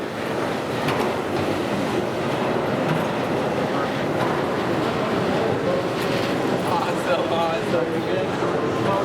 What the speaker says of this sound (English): there's the train going out